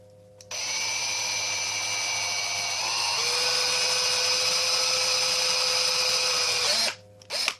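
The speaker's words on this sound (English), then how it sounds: "My dot was a little off, so I'm going to drill to the side of the dot." Power drill boring into a plastic game controller shell while building an adjustable-trigger controller, a loud steady whine running for about six seconds with a pitch dip midway, then a brief final burst after it stops.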